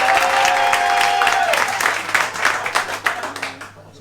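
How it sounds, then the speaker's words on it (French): Audience applause in a comedy venue, sustained clapping from a packed room that thins into scattered claps as it dies down, with brief voices over the start. "Je voulais savoir par applaudissement dans la salle qui connaît personnellement Tiziano."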